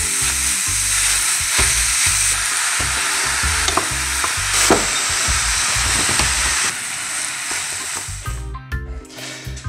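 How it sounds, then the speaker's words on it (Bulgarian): Minced meat fries loudly in a pan and is stirred steadily, with rhythmic scraping strokes over a constant close sizzle that thins and settles toward the end. "поразмеси се малко каймата, леко се позапържи"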